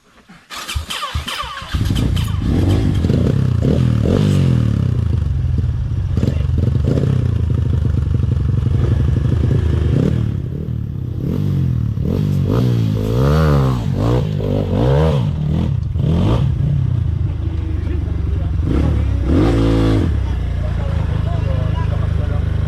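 A motorcycle engine starts, then revs and strains loudly for a long stretch climbing uphill, with rattling and changing pitch under voices talking nearby.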